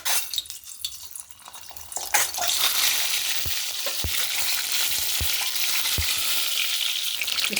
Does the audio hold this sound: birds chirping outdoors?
no